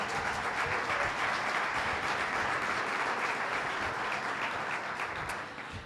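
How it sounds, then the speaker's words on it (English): A crowd at a public civic forum gives a sustained round of applause, thick even clapping from many hands filling the room and easing slightly at the very end. "Let's give them a round of applause."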